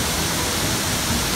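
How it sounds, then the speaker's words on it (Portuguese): Shiraito Falls in Fujinomiya, Shizuoka, heard from below among the rocks: an even, continuous rush of falling water, moderately loud and unbroken, with no talking. "A cachoeira, olha que beleza"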